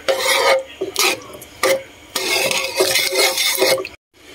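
Spoon stirring etag and beans with tomato sauce in a pan, close-up scraping and rubbing strokes in irregular bursts with a faint sizzle between them, ending in a brief silence.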